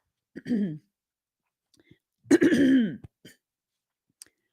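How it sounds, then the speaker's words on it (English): Two short bursts of throat clearing stand out against silence, the second louder and rougher, with a few tiny clicks and breaths between them. "You notice I've been clearing my throat quite a bit lately."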